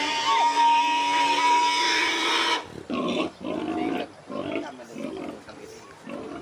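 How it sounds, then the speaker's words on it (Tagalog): A sow being led out of its pen squeals in loud, harsh bursts, first a long continuous scream, then a series of short choppy squeals and grunts close by. "Ayun o, babalik pa yung baboy o. Ayaw niya pang umalis talaga."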